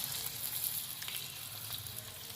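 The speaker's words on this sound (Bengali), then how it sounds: "এরম করে বন্ধুরা আমি প্রত্যেক কটাই এবার ছেড়ে নেব" Battered amudi sea fish pieces frying in hot oil, Bengali style, with a steady, dense crackling sizzle that stays close and even throughout, no voices.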